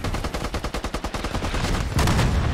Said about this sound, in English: we actually might get a live mortar kill on a tank right here